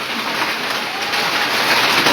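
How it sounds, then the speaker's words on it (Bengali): A hailstorm driven by strong wind makes a dense, unbroken roar of pelting and rushing air that stays loud and even throughout, with no voices. "দেখেন প্রচন্ড বাতাস এবং শিল, প্রচুর বাতাস এবং শিলাবৃষ্টি হচ্ছে।"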